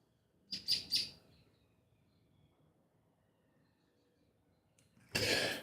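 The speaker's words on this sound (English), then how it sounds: "Apparently we have a bird outside that doesn't like me streaming." Bird chirping outdoors, heard indoors: a quick burst of three bright chirps, then near silence with faint background hum, ending with a sudden loud rustle.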